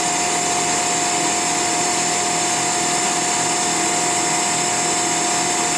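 A Fives Cinetic RK 350-20 Twin Grip CNC centerless grinding machine runs steadily, giving a loud, even mechanical whine and hiss with a constant high tone, no voices over it.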